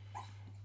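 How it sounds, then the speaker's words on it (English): Tiny, a small dog, lets out a faint, muffled yip-like bark in its sleep in the background, a single brief sound over a steady low electrical hum. "that's Tiny sleep barking"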